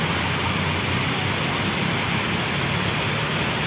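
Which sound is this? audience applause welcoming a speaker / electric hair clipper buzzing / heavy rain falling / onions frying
heavy rain falling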